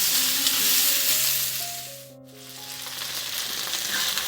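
Okra and potatoes frying in a pan over a medium gas flame, a loud steady close sizzle that briefly dips and swells back, with a faint stirring scrape.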